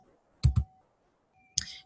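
Computer mouse clicks while selecting a last name column in a spreadsheet: a quick close double click, a short pause, then one more crisp click, quiet and with no one speaking.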